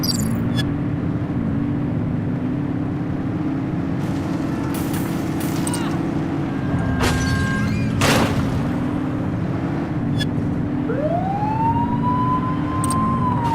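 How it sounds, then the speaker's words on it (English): A police car siren wails in The Precinct video game, a steady droning tone over engine noise, with brief crashes and a rising whoop near the end. "Remember to turn your siren on."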